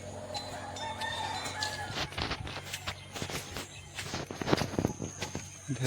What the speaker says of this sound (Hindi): इधर एक मुर्गी फार्म